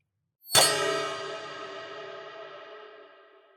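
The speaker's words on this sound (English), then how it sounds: "The air rang with the unmistakable sound of the watchfire bell" A single struck watchfire bell sounds alone, with a sharp metallic clang that rings out into a long, shimmering, slowly fading tone with reverberant tail.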